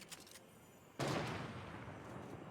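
Gunfire erupts in a Fortnite match, a sudden loud burst of rapid shots that keeps going as a dense, sustained rattle after quieter, more distant firing.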